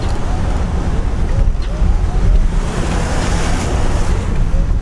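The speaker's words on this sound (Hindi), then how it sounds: "दिन की पहली वाटर क्रॉसिंग और यहाँ से निकलने वाला ज़्यादा नहीं है, हल्का ही पानी" A Kia Seltos rolls through a shallow stream crossing, water rushing and splashing loudly under the car alongside heavy wind buffeting on the microphone, a steady churning wash with no speech.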